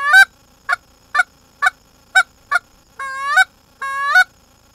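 A goose call used for waterfowl hunting gives a series of short, sharp clucks in a steady rhythm, then two longer drawn-out honks, loud and close with silence between.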